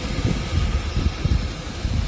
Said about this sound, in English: Just listen to that engine, butter smooth.